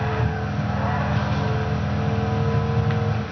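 Car engine droning steadily at high revs while drifting in the racing game Midnight Club LA, a continuous buzzy hum with no talk over it.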